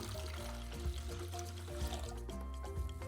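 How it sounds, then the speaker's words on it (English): Hot water pours from a container into a metal bowl for jelly, a steady close splashing and filling sound with rising ringing tones as the bowl fills. "I've got 500 mils of hot water here that's going to go straight in."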